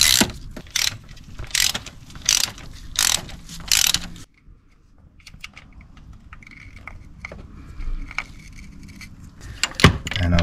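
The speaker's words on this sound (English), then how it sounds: "these plugs are removed with a 16mm socket" A socket ratchet loosens the spark plugs on a 2009 Fiat Panda 1.2, giving several bursts of sharp clicking up close, then quieter scattered clicks and handling noise.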